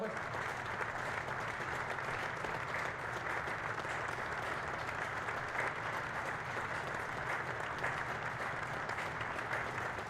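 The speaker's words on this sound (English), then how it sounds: "before we pause for a moment's applause." A football stadium crowd at Vicarage Road, Watford, applauds in tribute before a match, a sustained, even wash of clapping from a large distant crowd with a commentator's voice faintly over it.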